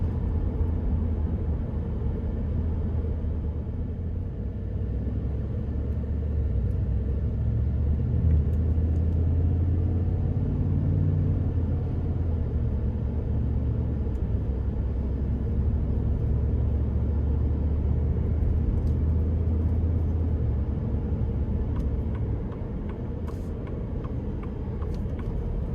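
A 2026 Ford F-150 Lobo pickup drives in eco mode, heard from inside as a steady low engine and road rumble that swells gently as it gets up to speed, quiet and continuous with no talking.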